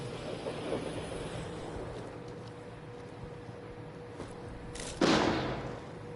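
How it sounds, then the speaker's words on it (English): Firecrackers in the video game Deathloop: one sharp pop breaks out near the end over a low, steady ambient rumble, with a few faint ticks before it. "Oh, just firecrackers."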